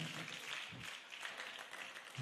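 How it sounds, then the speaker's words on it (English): Applause from a conference audience at a pharmacists' continuing education event in Lagos as a zone team comes forward to present, a steady wash of clapping at moderate level with a few louder bursts. "Please, a round of applause for Yesba Zone as they come forward for their presentation."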